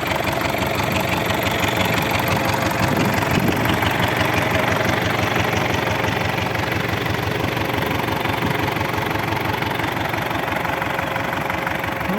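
An MTZ-80 tractor pulling a PLN-3-35 plough through wet ground runs with a steady, loud diesel clatter and a low, knocking throb that stays constant throughout with no voices.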